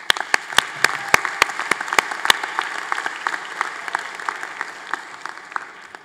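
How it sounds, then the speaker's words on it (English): A graduation audience at the Atlantis University commencement applauds families and friends, opening with several sharp, close claps over a broad wash of crowd clapping that holds steady and then gradually fades. "Please, let's give them a big round of applause."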